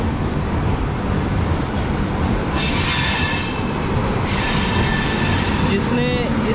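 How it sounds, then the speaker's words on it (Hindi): The Sampoorna Kranti Express pulls out of New Delhi while overtaking another train. Wheels rumble steadily underneath, loud squeals rise and fall over the top, and faint clatter and a voice come through in the background. "तो यहाँ से हम डिपार्ट हो रहे हैं, और यहाँ पर हम पूर्वा एक्सप्रेस को ओवरटेक कर रहे हैं।"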